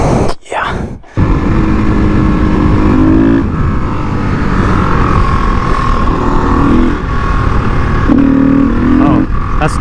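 A supermoto motorcycle accelerates hard through its gears, the engine note rising and dropping with each shift in a loud, close, continuous roar, with a brief gap near the start.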